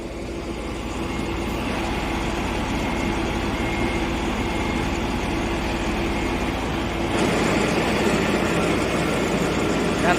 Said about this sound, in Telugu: ఇదైతే మన కొత్త పేవర్ అనమాట కొత్త పేవర్ వచ్చి ఇక్కడ అక్కపాలెంలో ఉంది